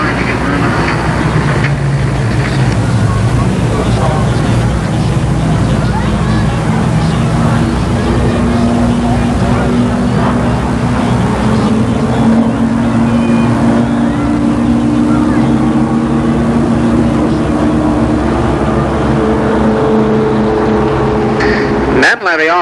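Race cars at Columbus Motor Speedway in 1990 slam on their brakes after a false start, engines roaring and sliding down in pitch as they slow, while an announcer talks over the sustained loud motor noise.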